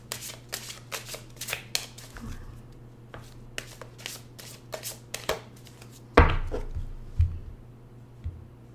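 Tarot cards being shuffled by hand up close, a quick run of crisp riffling flutters followed by a few louder taps and thumps as the deck is squared, with a faint steady hum underneath.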